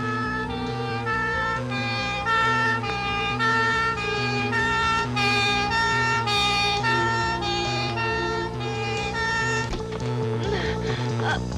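A wailing emergency siren in a Turkish comedy film scene, steady and loud with a repeating rising and falling tone throughout, with no speech over it.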